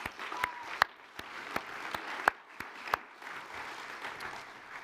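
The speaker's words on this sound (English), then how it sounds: "Let's give our entire leadership team a round of applause once again." An audience applauds a university alumni leadership team at the 2025 Wilson Wyatt Alumni Awards, a steady wash of clapping with a few sharp, nearby claps standing out, moderately loud throughout.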